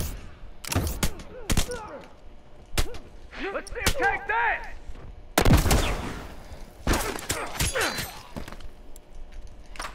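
Sniper gunshots in an online shooter video game, several sharp loud cracks spaced irregularly, some in quick pairs, with people talking between and over them.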